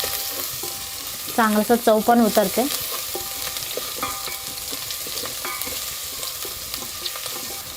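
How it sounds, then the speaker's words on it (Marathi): Ginger and garlic for a Kolhapuri chicken masala sizzle in a pan over a wood-fired clay stove, a steady loud frying hiss with stirring, while someone speaks briefly. "आपल्याला कांदाचं हे फोडणी द्यायचं नाही, आलं लसणाचंच फोडणी द्यायचं."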